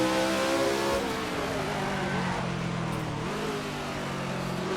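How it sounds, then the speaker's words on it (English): A Brabham race car accelerates hard in a 1967 South African Grand Prix driving game. The engine gives a loud, continuous rising roar with one brief dip as it shifts, then climbs again. "that Brabham just takes off like a bullet out of a gun"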